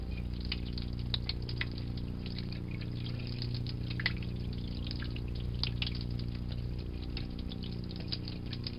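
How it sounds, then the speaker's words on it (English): Cold tap water runs steadily over a glass circuit board being rinsed of ferric chloride etchant, a quiet continuous splashing trickle with no talk. "I'm going to run this under cold water"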